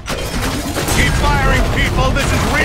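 Sustained rapid gunfire in the video game Evolve Legacy, dense and loud with booming impacts running the whole time, while voices talk over it.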